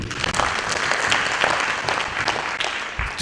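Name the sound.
audience applause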